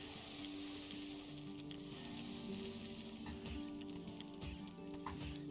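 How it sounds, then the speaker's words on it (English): Meat cooking over a campfire in Valheim, a soft steady sizzle and crackle under a faint background music bed, quiet and continuous. "you'll see an animation and hear a sound when it goes from raw food to cooked food"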